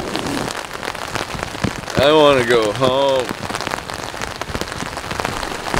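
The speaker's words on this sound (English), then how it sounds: "Just like dumping rain." Heavy rain pounding steadily on a tent or tarp in the wilderness at a river camp, a dense close hiss throughout, with someone speaking briefly partway through.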